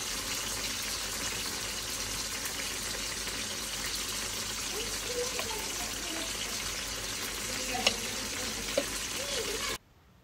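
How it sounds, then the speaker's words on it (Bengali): Fish frying in a pan for a Bengali home-cooked dish, a steady close sizzle running continuously with a few faint clinks of utensils, then cutting off abruptly near the end. "পাশাপাশি মাছটাও উল্টিয়ে পাল্টিয়ে নিচ্ছি"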